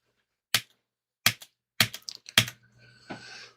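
Separate clacking keystrokes on a computer keyboard during a Linux install, four sharp isolated taps spaced about half a second apart, then a quick burst of lighter clicks followed by a faint steady hum.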